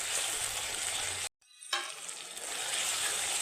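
Tomato sizzling in hot oil with salt makes a loud, dense hiss that cuts out abruptly for a moment and then returns at full strength.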